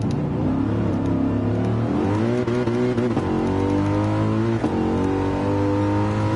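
A race car engine in Gran Turismo 7 on the Nordschleife, loud and continuous, its pitch climbing through gears with sharp drops at each shift.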